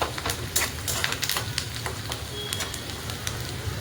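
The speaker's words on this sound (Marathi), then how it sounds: "आता आपण याला हलवून घेऊया एकदा तेलामध्ये." Onion and curry leaves sizzle steadily in hot oil in a pan while being stirred, a dense crackling hiss with scattered sharper pops and soft scraping, close and moderately loud throughout.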